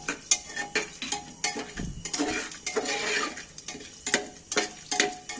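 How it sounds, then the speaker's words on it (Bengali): Whole cumin, two dried red chillies, four cracked cardamom pods and cinnamon pieces fry in oil for an egg curry, with the clatter of a utensil against the pot in irregular close knocks over a soft sizzle. "এটাকে একটু তেলের মধ্যে ভেজে নেব"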